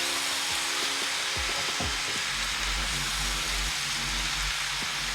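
Onions and beans stir-fry in a pan, sizzling steadily up close while a utensil knocks and scrapes against the pan in irregular bursts of stirring.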